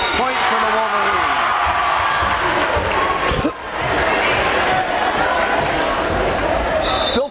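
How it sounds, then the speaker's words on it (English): A loud crowd fills a school gymnasium during a high-school volleyball match between the Wolverines and the Hibbing Bluejackets. The crowd roars steadily and close with cheers, and a sharp ball-strike cuts through the din partway along. "It's a good crowd. Good loud crowd."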